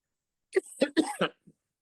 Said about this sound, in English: How do you want me to handle the cough?